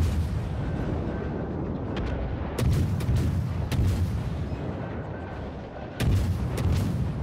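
Heavy naval guns from World of Warships boom in a few loud, broad blasts roughly a second apart, with a final big volley near the end, over a constant low rumble of sea and engine.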